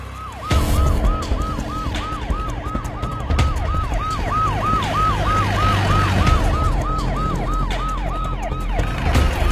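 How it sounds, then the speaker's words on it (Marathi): A police car siren wails in a steady, rapid up-and-down cycle, loud and close, with a low rumble of road traffic underneath and no talk. "ते पोलीस सायरनचा आवाज आला ते."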